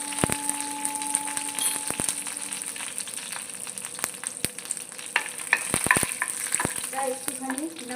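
Curry leaves, mustard seed and green chillies sizzle and crackle in hot oil in a pan for a dhokla tempering, with scattered sharp spits and pops and occasional stirring scrapes, no talking.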